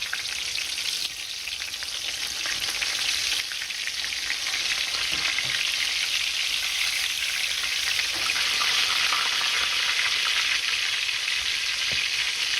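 Crispy chicken cutlets fry in a pan with a steady, loud, dense sizzle and crackle that holds evenly throughout, with no talking.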